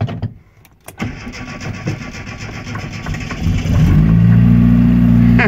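A GAZ-69 engine cranks and catches with a sharp bang, then revs and settles into a loud, steady, rumbling run close by, with no talk.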